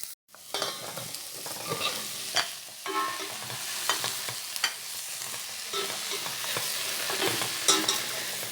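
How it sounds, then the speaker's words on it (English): Pumpkin and carrots frying in a pot for a soup, a close, steady sizzle with repeated scraping and knocking of a stirring spoon throughout. "add the pumpkin and the carrots"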